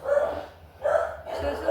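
Dogs barking indoors in short, loud bursts, two or three barks overlapping a person speaking close by.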